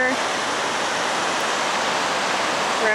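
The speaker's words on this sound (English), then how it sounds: "There's a pretty waterfall over here." A waterfall rushes down to a river at Santuario de Las Lajas, Colombia, a loud, steady broadband roar of falling water that holds unbroken throughout.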